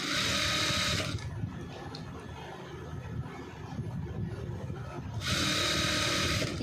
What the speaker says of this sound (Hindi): इस तरह से आपको सिलना है